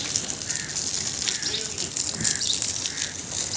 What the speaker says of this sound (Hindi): जी पानी की तराई कर रहे हैं